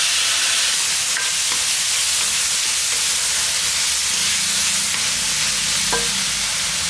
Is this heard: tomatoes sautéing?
yes